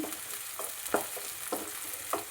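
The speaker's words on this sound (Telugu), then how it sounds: "ఇవైతే బాగా వేగాలండి, కొంచెం బ్రౌన్ కలర్లో రావాలి." Raw plantain pieces fry in hot oil for an Andhra-style curry, giving a steady close sizzle with soft crackling bursts recurring roughly every half second, no voices.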